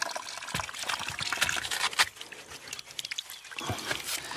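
Root crops such as ube are washed by hand with water outdoors in a mountain setting. Quiet, intermittent splashing and trickling pours come in short bursts.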